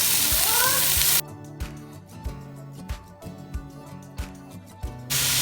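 Onions hit hot coconut oil in a pan with a loud burst of sizzling. It then drops to a quieter hiss broken by repeated clicks and knocks from the pan.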